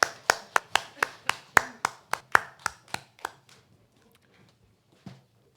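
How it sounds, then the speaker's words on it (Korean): A church congregation claps in unison, about a dozen sharp, evenly spaced claps in a steady rhythm that stop abruptly, followed by near silence and one faint knock. "하나님께 영광의 박수 올려드리겠습니다."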